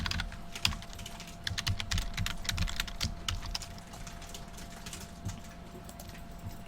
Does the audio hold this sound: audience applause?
no